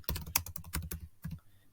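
Quick, uneven keystrokes on a computer keyboard, close and fairly quiet, with a short pause before a few final taps; no voices.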